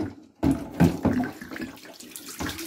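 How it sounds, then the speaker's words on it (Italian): Water poured out of the removable water tank of an Electrolux tumble dryer, a steady splashing flow into a sink that starts abruptly and runs continuously for a few seconds, close and fairly loud. "qui c'è il serbatoio dove c'è l'acqua, che praticamente adesso c'è l'acqua e dobbiamo svuotarlo"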